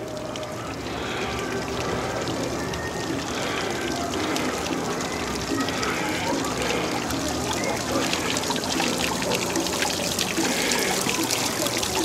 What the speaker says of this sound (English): There's a pretty little water feature over here.